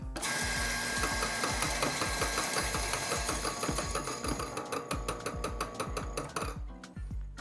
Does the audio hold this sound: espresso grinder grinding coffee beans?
yes